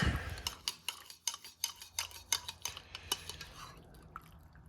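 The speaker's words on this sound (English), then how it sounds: "let's pull out our KFS, our knife, our fork, and our spoon. Get our spoon in there." A spoon stirs inside a German 24-hour ration pouch, making a steady run of close metallic clinks and scrapes with faint wet sounds, with no talking.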